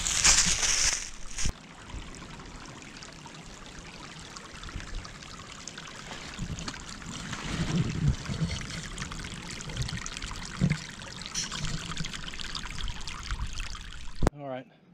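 A creek flows steadily outdoors, with a continuous rushing, trickling wash that holds for about fifteen seconds and rises in a few brief louder surges near the end.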